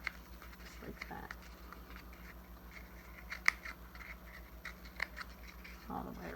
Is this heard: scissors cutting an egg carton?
yes